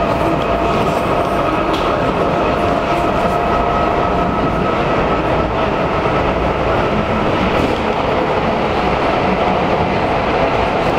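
Inside an ET2M electric commuter train on the move, a loud, constant rumble with faint clickety-clack of wheels over rail joints and steady motor hum throughout.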